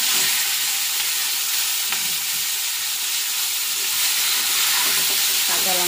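Vegetables fry in hot oil with dry red chilli, bay leaf and panch phoron, a loud, continuous close-up sizzle and hiss with occasional stirring scrapes.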